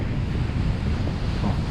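Ocean surf at a Siargao beach as high tide comes in, a loud continuous roar of breaking waves mixed with heavy wind buffeting the microphone, and no voices.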